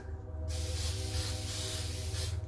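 A steady hiss of a rose-colored spray paint can spraying close by with heavy splatter, starting after a brief pause and continuing evenly over a low background hum.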